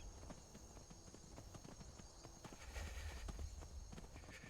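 Horse hooves clip-clop at a steady walking pace in Skyrim, rhythmic close thuds growing slightly heavier toward the end, faint overall.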